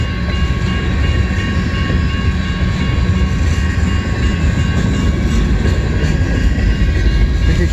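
A westbound CN M397 mixed freight train departs, making a loud, steady, continuous rumble of wheels and cars close by, with no talking.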